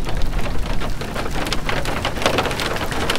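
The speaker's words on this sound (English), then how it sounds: "Here comes the rain." Steady rain pours down outdoors ahead of a thunderstorm front at a fishing spot, a dense, continuous hiss of drops hitting surfaces, loud and close throughout with no voices.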